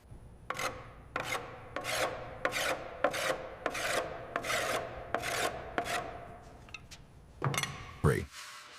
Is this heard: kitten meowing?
no